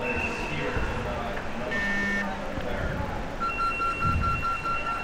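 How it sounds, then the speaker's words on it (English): A referee's buzzer at the underwater hockey world championships sounds in steady, repeated electronic tones, heard faintly through the water and arena ambience, with short beeping bursts toward the end and background commotion throughout. "And here we have our buzzer."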